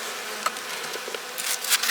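Honey bees buzz steadily around their hive in winter, a dense, continuous hum close by, with a few louder passes of individual bees near the end.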